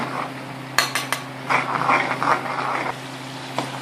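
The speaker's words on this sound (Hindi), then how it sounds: "अब हम इसमें ये मसाला ऐड कर देंगे और अच्छे से चलाएंगे इसको।" A spoon scrapes and clinks against a cooking pan while stirring cooked tomatoes with mixed masala, giving several sharp metallic taps and soft scraping strokes close up, with no talking.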